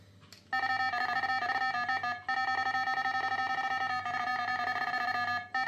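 A device set to its highest sensitivity rings straight away, a loud, steady electronic tone with bright harmonics that keeps going for about five seconds. It breaks off briefly once near the middle and runs on alone with no voices.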